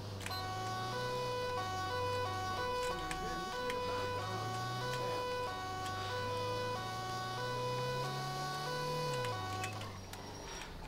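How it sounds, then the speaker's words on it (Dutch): A police car siren in GTA 5 wails in slow rising and falling sweeps at night, steady and continuous beneath an electronic hum, moderately quiet throughout. "Ja, sirene erop."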